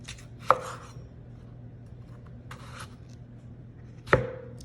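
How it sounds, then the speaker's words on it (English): A knife chopping peeled potatoes into cubes on a cutting board, two sharp, close knocks a few seconds apart over quiet background hum and a few soft taps. "now that my potatoes are peeled, we are going to go ahead and cut them in cubes"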